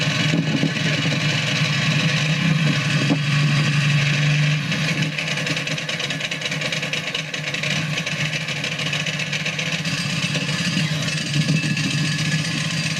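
A motorcycle engine runs steadily while the clutch is engaged, a loud, continuous mid-pitched drone with a low hum that holds nearly constant, apart from a slight dip partway through.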